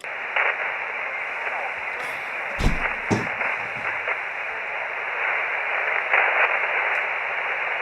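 A very low-power amateur radio signal, 8 milliwatts from Deal Island about 270 kilometres away, sinks into a steady band-limited hiss of static, with faint voice fragments and brief crackles briefly breaking through the noise.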